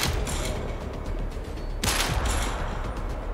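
A single loud rifle shot from a hunting video game cracks out partway through, a sharp burst standing over steady game ambience.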